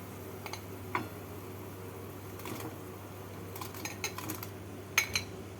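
A utensil stirs fried paneer into boiling vegetarian gravy in a pan, giving a few scattered soft clinks and scrapes over a steady low stove hum, with no speech.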